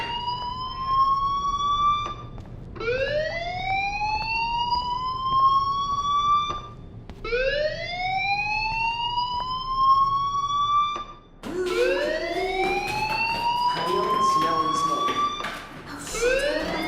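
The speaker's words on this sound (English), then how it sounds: "Hey, do you hear that fire alarm?" A fire alarm in the video game Life Is Strange wails in four repeated rising sweeps, each climbing steadily in pitch before cutting off, loud and close, with the final sweep harsher and busier.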